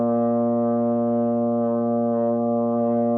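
A trombone holds a single note with its slide all the way in, sustained loud and even for the whole stretch with no pauses or other sounds.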